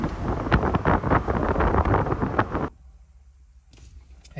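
Loud wind buffets the microphone while riding in a luxury convertible on a summer day, a rough roaring gust that cuts off abruptly midway to near silence, then briefly returns.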